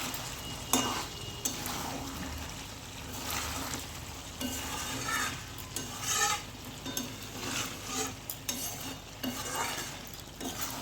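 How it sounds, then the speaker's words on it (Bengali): A spoon scrapes and clinks against a pot of chicken kosha curry on the stove, steady close stirring over a soft sizzle, with no talking. "ঢাকনা তুলে আবার একটু নাড়াচাড়া করে নিচ্ছি"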